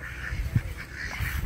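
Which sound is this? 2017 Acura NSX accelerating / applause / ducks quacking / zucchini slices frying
ducks quacking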